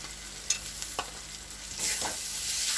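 Ginger and garlic paste frying with tomato and spices in a pan for a Bengali prawn curry, a quiet sizzle with a few scraping stirs, then a louder hiss toward the end.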